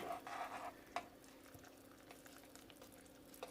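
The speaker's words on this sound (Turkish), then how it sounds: "İlk kez karıştırıyorum daha karışımımı." Spoon stirring a few drops of food coloring through hot sugar syrup for candy apples, heat just switched off; faint scraping and light liquid swishing with a steady low hum beneath, one brief clink near the start.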